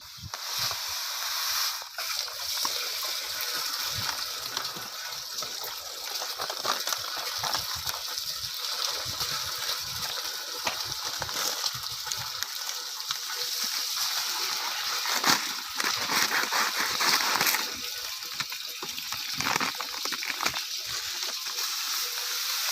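Water gushes and splashes steadily into a soil-walled water tank, a continuous rushing, sloshing pour that holds at a fairly even level throughout with no voices over it.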